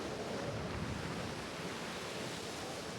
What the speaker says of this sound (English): Winds at force 8 today, with gusts of 50 knots.